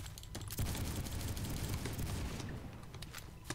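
Rapid automatic gunfire from a weapon in the shooter game Phantom Forces, a sustained burst emptying a full magazine, dense and steady across the clip with a brief pause near the start.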